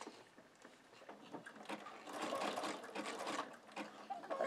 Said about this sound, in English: back to the sewing machine and finish our bowl